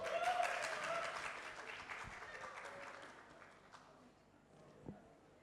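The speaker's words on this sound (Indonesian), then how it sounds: "boleh kita sambut dengan tepuk tangan yang meriah moderator kita pada hari ini, Mbak Ripa." Audience applause at a symposium session welcoming the moderator, loud and dense at first, then gradually thinning and fading into scattered claps over several seconds.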